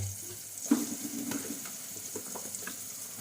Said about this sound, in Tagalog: ilalagay na po natin yung ating carrots at patatas guys